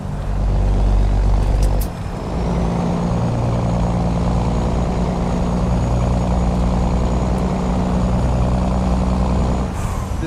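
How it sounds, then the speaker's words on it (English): A heavy truck engine labours under torque in American Truck Simulator, a loud, deep, continuous drone that dips briefly near the start and then holds steady and close with no voices. "it's the engine sound for me. It's that under torque."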